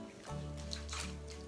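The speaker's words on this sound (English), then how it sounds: "squeeze it like that, but under the water to help, you know, get the soap out and the water through" Soapy dreadlocks squeezed under water, a brief wet squish and slosh with gurgling liquid sounds, close and soft.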